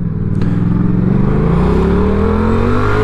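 A Yamaha MT-07 motorcycle engine hums loudly and close while riding, its pitch rising steadily as it accelerates, with no talk over it.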